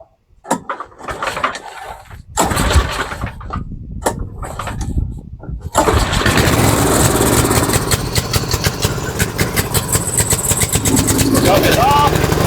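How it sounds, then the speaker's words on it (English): A Tecumseh Snow King snowblower engine with the choke on sputters and coughs through a few uneven attempts, then catches and runs steadily with a loud, rough drone. People talk over the sound. "put the choke on."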